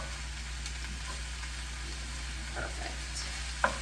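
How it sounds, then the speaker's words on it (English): Ground beef browning in a pan for shepherd's pie, broken up with a wooden spoon; a quiet, steady sizzle with occasional scraping stirs, plus one sharp knock near the end and a brief spoken word. "We're going to completely break up this ground beef with our wooden spoon."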